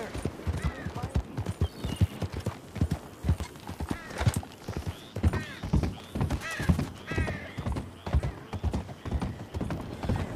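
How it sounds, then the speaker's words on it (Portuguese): A horse in Red Dead Redemption 2 Online approaches at a steady clip-clop, hooves close and loud, with snorts and a whinny among the steps and no talk over it. "Pois assim o cavalo vem."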